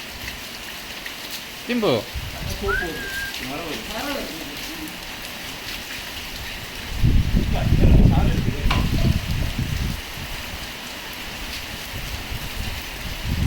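Rain patters and hisses steadily during a Labrador's bath, growing louder and denser partway through. A person speaks briefly early on and a splash or scrape cuts through the rain.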